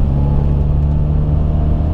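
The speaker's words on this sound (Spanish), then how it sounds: "cuando le pisas a tope este coche" A Renault Megane RS 250 hot hatch under full throttle, its engine a steady, loud, close droning roar with a strong low hum held throughout, no talk over it.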